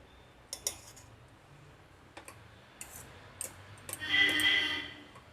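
A fork scrapes and clicks against a pot of cooked plain kushka rice, with sparse light metallic taps spread over a few seconds and then a brief softer rustle, close and quiet.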